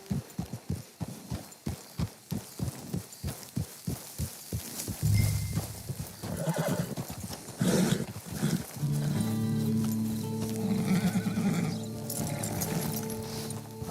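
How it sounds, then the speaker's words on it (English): A horse's hooves clip-clop in a steady, rapid rhythm for several seconds in Red Dead Online, then give way to a dense wash of game ambience and music with a low rumbling swell. "Get your horse."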